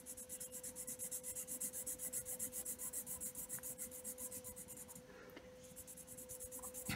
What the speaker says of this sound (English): And now we're going to color it in.